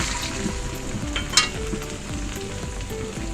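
Meat sizzles loudly in a pan for dragon fried rice as an egg goes in, a steady close crackle with a brief sharp clatter partway through and some stirring, no voices.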